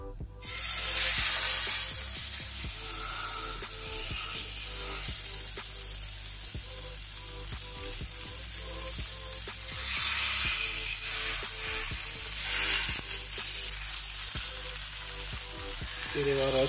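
Chicken breast fillet frying in a pan: a steady, moderate sizzle with occasional crackles and stirring clicks, swelling louder at moments, with no talking.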